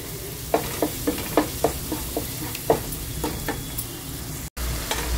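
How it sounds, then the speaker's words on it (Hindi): Masala for achari dahiwali bhindi fries steadily in oil, a constant close sizzle broken by a run of sharp spoon scrapes and taps as it is stirred, with one brief dropout near the end. "तो देखिए ये मसाला हमारा भुन गया, देख सकते हैं ऑयल भी ऊपर आ गया।"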